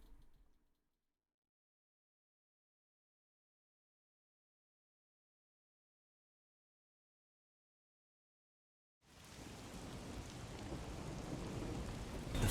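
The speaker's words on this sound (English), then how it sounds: "The faint sound of a ticking clock melts against the sound of rain." Steady, heavy rainfall in the video game Master Detective Archives: Rain Code starts abruptly after a long stretch of silence, a dense hiss of drops continuing loudly to the end.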